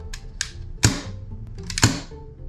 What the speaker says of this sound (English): So this is the sound of the SSX-23 unsuppressed.